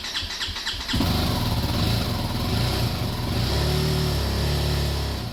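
A BMW G 310 GS motorcycle with an upgraded LiFePO4 battery cranks and fires up at about one second, then settles into a steady, loud, close idle that continues with a slight rise in pitch.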